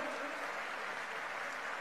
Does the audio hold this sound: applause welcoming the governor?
yes